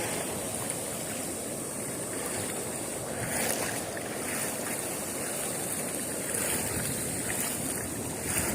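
Wind gusting by a river during a fishing outing. It is a loud, steady broadband rush of wind buffeting the microphone throughout, with slight surges and no talk.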